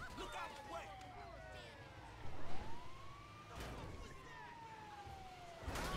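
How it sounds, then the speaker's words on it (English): Police siren in GTA 5 wails with rising and falling sweeps, moderately loud behind a steady game rumble, with a sharp burst near the end. "Don't have to turn my siren on and off."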